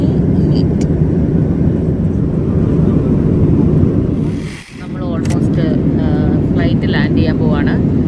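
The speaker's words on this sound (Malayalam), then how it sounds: "ഫ്ലൈറ്റ് ലാൻഡ് ചെയ്യാൻ പോവാണ്." Steady roar of airplane cabin noise during flight shortly before landing, a loud broadband drone with a brief dip midway, and a voice talking over it.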